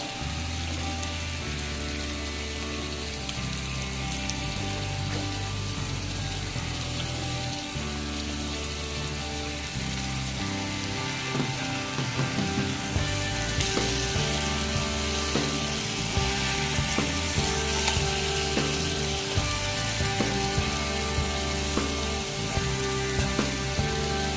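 Paneer tikka pieces fry in a hot pan with a steady, dense sizzle throughout, close and continuous, with occasional soft knocks as pieces are turned over and faint background music.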